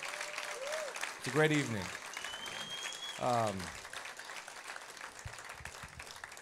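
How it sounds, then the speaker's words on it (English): Ongoing audience applause and crowd noise at a bass guitar event in an Italian music venue, steady in the background beneath voices, with someone speaking and others calling out over the clapping. "let's give them a big round of applause for putting all this on"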